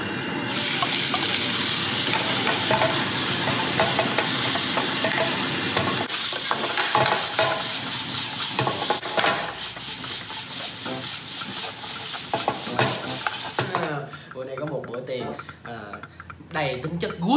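Squid stir-frying in oil with garlic and sa tế chili paste in a pan, a loud continuous sizzle with stirring scrapes, people talking over it, the frying easing after about fourteen seconds.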